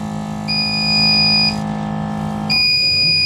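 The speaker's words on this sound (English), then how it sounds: "And it will sound an alarm when it's done." Casting powder machine signalling it is done with a loud electronic alarm: a steady high-pitched tone sounds for about a second, cuts out briefly, then resumes over a constant low mechanical hum.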